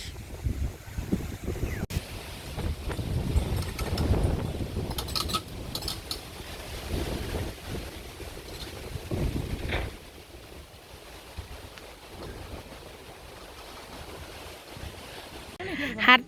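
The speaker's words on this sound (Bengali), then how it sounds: "বৃষ্টি গেছে গা কিন্তু বাতাস আছে মেলা দেখেন খালি কি পরিমাণ সুম সুম বাতাস" Strong wind gusts through a village after rain, roaring and buffeting the microphone in waves before easing into a softer steady rush.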